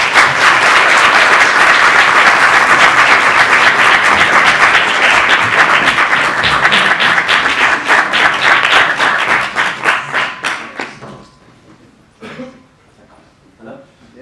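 An audience at a talk bursts into loud, sustained applause welcoming a speaker, holding steady for about ten seconds before thinning into scattered claps and fading out.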